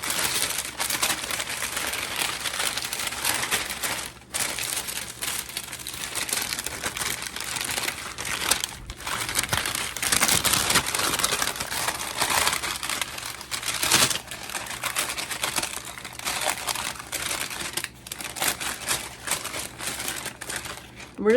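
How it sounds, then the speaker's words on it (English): A Ziploc bag holding parchment paper and biscuits crinkles and crackles in close, irregular bursts, with short pauses between handlings. "We're just going to take our biscuits and we're going to set these right in our Ziploc bag."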